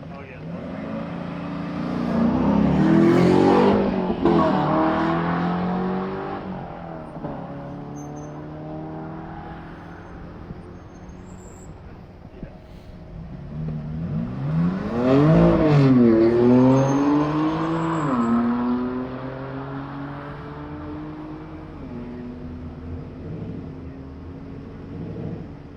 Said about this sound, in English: Chris away in his Mustang